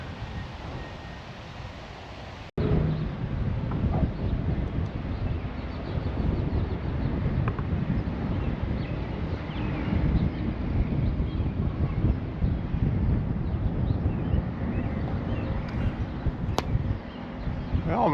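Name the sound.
wind blowing outdoors at a trail lookout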